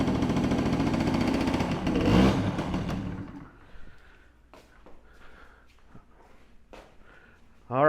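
A 1985 Honda Spree NQ50 two-stroke scooter engine running loud and close, then cutting out and leaving quiet handling clatter and a brief voice.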